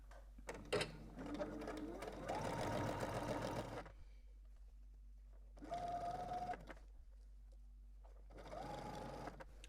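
A home sewing machine stitches a double-folded sleeve hem in three short runs of a couple of seconds each, with quiet pauses between them while the fabric is adjusted.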